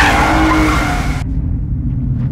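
Tires on a Lexus IS 350 F Sport squeal while cornering hard on a track, a loud, sustained screech over the roaring engine that cuts off abruptly halfway, leaving engine and road noise.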